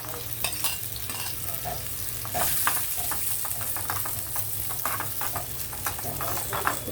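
Coconut pieces and cashews fry together in a pan for a sweet palada payasam, a steady close sizzle with repeated spoon scrapes and stirring knocks throughout, no voices.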